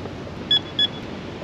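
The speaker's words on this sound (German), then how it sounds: "Check jetzt nochmal die Sensibilität, also dass er mir auf jeden Fall bei einem stärkeren Rupfer sofort Alarm meldet" A fishing bite alarm sounds two short, clear high beeps in quick succession during a sensitivity test at a harbour while catfishing, over low steady background noise.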